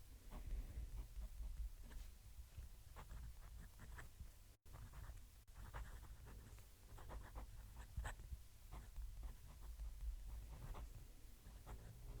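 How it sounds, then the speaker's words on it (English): A wet-writing fountain pen, an Italian Leonardo Furore or Tibaldi Bononia, scratches out a sentence on paper with soft, close, continuous nib scratches and small taps against a low background rumble, with no talking. "Let's move the mic and write a sentence."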